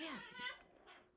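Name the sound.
cat stretching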